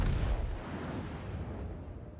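Secondary guns firing at a destroyer in World of Warships: a deep booming blast that rumbles and slowly fades over about two seconds.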